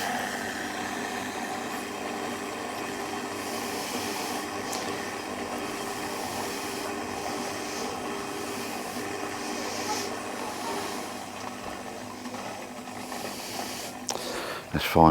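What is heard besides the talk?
pool pump running after being switched on and purged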